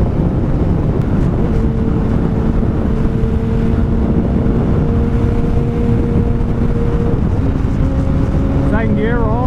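A BMW S1000RR sport motorcycle pulls a second-gear roll-on, its engine tone climbing steadily under heavy wind rush before a shift and a rising rev at the end, loud and close.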